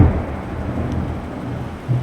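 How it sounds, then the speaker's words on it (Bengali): Steady low rumble of a storm with rain hissing throughout, a faint deeper roll near the end, no voices. "ঝড় বৃষ্টি আরম্ভ কি বিদ্যুৎ চমকাচ্ছে"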